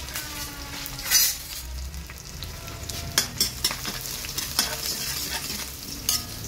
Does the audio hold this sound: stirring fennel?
yes